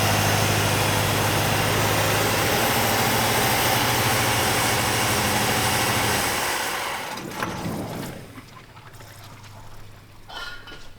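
A V8 Buick LeSabre, forgotten for 34 years, idles cold with a loud, steady engine drone that fades and drops away toward the end.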